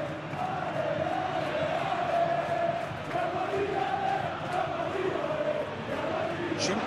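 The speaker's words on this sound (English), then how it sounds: "the crowd clearly liked what they just saw" A stadium crowd in a PES football video game keeps up a steady, moderately loud roar of cheering and chanting across the whole stretch, with no clear pauses.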